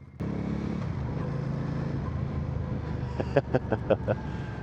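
A Benda Napoleonbob 500 motorcycle engine drones steadily while being ridden, a low continuous rumble with wind noise, followed near the end by a few sharp knocks or clicks.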